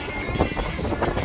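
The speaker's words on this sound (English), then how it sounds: "So, it's extremely windy." Strong, chilly wind buffets the microphone on a mountain trail along the Pacific Crest Trail during a high wind advisory, a steady close rumble with gusty swells lasting throughout.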